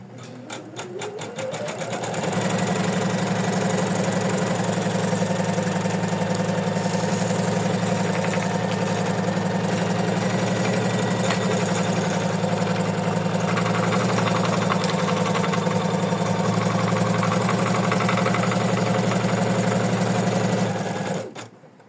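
An embroidery machine stitching a placement line on tearaway stabilizer in an 8 by 8 hoop, a loud steady mechanical whir with rapid needle chatter running continuously after a brief start-up, no voices.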